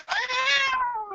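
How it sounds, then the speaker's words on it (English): A cat lets out a single drawn-out meow, loud and close, rising slightly then falling away over about a second, with no talking over it. "Oh, my cat."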